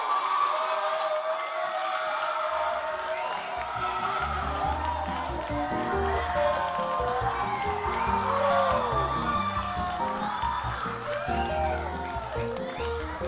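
A theatre audience cheering and whooping, a steady loud crowd roar with shouts rising over sustained music throughout.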